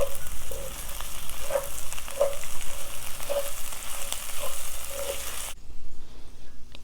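Okra fries in a pan with a constant close sizzle and crackle, broken by faint periodic clinks of stirring, before cutting off abruptly near the end; nobody speaks.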